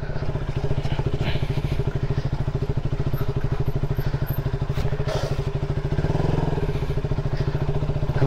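A KTM Duke 200 single-cylinder engine while riding on a mountain road toward Manang, a close, loud, rapid regular thumping pulse that holds steady throughout.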